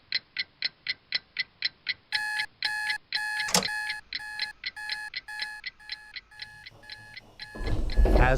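An alarm clock goes off at 3 a.m. with a run of sharp, evenly spaced electronic beeps that grow into a denser, louder beeping pattern before ending in a burst of rustling noise.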